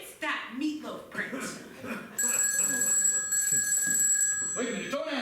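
A telephone bell rings in repeated bursts, loud and near, partway into a scene from an unscripted soap-style comedy show, with people talking before and over the ringing.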